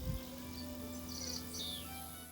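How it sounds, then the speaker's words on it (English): Faint, high bird chirps and short trills sound over a steady hum of background noise outdoors on a trail. "I had fun recording trailside bird sounds here, despite some challenging background noise."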